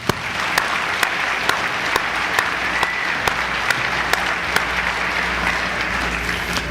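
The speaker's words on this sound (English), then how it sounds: "Let's give them a round of applause as well." Steady audience applause for the board of directors of an electric utility at an annual management meeting, continuous dense clapping from a large room, with a few louder individual claps standing out at a regular pace.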